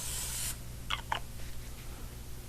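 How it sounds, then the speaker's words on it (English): Cooking spray hisses onto a griddle in one short close burst lasting about half a second, followed by quiet scraping and light handling sounds over a low hum. "Make sure you spray it with some spray."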